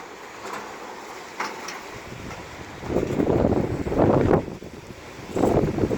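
Wind gusts across an empty beach, buffeting the microphone in rising and falling bursts, with a faint steady rush between them and nobody talking.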